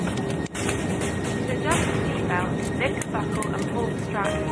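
British Airways Boeing 747 jet engines starting up in the cockpit, a steady broadband roar that swells slightly and holds, with muffled voices underneath.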